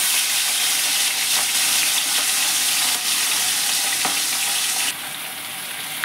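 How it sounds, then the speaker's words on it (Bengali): Hilsa fish pieces fry in hot oil for a mustard ilish dish, giving a loud, steady, dense sizzle that runs throughout, with a brief clink near the end before the hiss drops slightly quieter. "তেল গরম হয়ে গেছে, এবার মাছগুলো একটা একটা করে দিয়ে আমি ভালো করে ভেজে নেব।"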